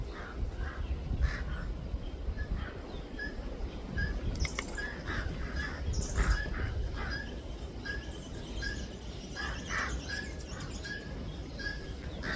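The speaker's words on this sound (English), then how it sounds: "Two pied crows had no appreciation for the invasion of their territory by this raven" Pied crows give repeated harsh calls as they mob a white-necked raven, with guinea fowl nearby. The caws come in scattered bursts over a steady outdoor wind and rumble at moderate distance.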